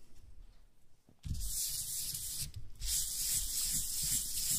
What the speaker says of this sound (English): This is what it looks like from the front that we've gone over with the sandpaper